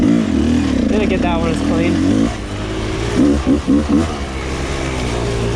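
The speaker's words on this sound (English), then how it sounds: "this is a good feeling carbureted bike" Carbureted Rieju 300 two-stroke dirt bike engine running loud and close, with a sustained rev that drops back, then short choppy throttle blips, while someone talks over it.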